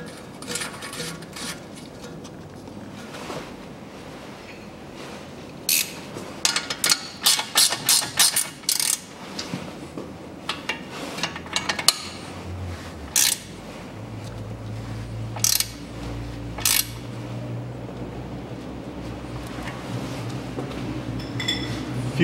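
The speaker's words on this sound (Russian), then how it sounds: "Закручиваю гайку." A hand ratchet tightens the nut on a tie rod end of a 2003 Toyota Harrier, with bursts of quick clicking strokes, metallic clinks of tools, and a low steady hum beneath.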